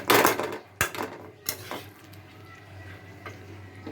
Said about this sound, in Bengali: এখন এটাকে নেড়ে চেড়ে নামিয়ে নিই।